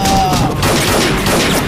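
Gunfire in a Lao film, a loud, dense burst of shots and blast noise filling the whole moment, with shouting voices mixed in.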